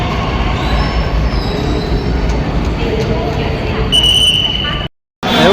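Pune metro train bound for Vanaz on an elevated line, a steady loud rumble of wheels and carriage noise throughout, with a brief squeal near the end before a sudden cutoff.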